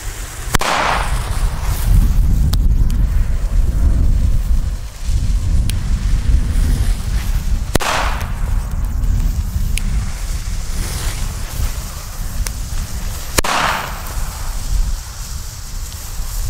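Several sharp, loud blasts from DumBum Black Edition PB120D firecrackers crack out at intervals over a windy outdoor rumble, each a sudden bang with a short decay.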